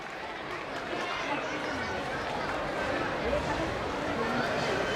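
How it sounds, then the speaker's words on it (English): A school crowd applauds an alumna, with steady, dense clapping mixed with the murmur of many voices. The sound holds at an even level throughout, full and slightly distant. "Please give her a big round of applause."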